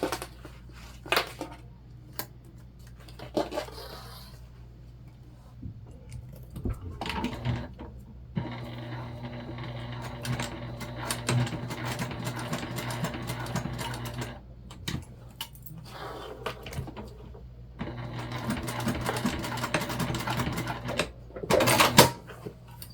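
A sewing machine bastes pieces of fabric for a small backpack in several close bursts of stitching, broken by pauses and sharp clicks of handling and repositioning.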